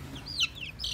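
Chickens clucking nearby, a few quick high squawks and chirps over a low background rumble, brief and moderately loud.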